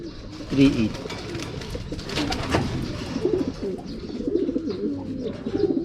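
Racing pigeons coo softly and repeatedly at a loft after a long summer race from Vigan to Tuguegarao, with people talking close by throughout.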